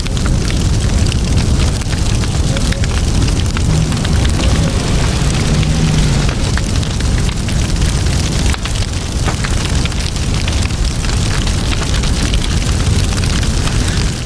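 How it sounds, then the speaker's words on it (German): An out-of-control bushfire in Cape York scrub, driven by gusty wind, produces a dense, unbroken roar with crackling texture that stays loud and steady throughout. "Doch jetzt ist das Feuer außer Kontrolle geraten."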